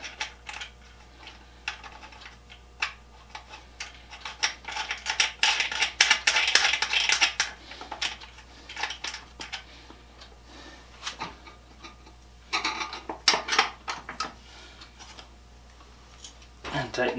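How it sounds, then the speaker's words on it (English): A metal nut is spun by hand onto a bolt on the seat frame of a treadle grinder, making close, uneven bursts of light metallic clicking and rattling with short pauses between. "I'll just spin the nut on it."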